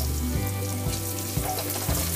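Finely chopped onion fries with browned garlic in a pan, a steady, close sizzle with light stirring, overlaid by a low repeating hum.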